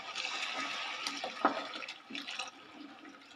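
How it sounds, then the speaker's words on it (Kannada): Hot water poured into rice in a clay pot while cooking vegetable biryani, a steady close splashing rush with a brief clatter partway through. "ಆ 4 ಲೋಟ ನೀರನ್ನು ಹಾಕ್ಕೊಂಡು ಎಲ್ಲ ಒಂದು ಒಳ್ಳೆ ಮಿಕ್ಸ್ ಕೊಡ್ತೀನಿ"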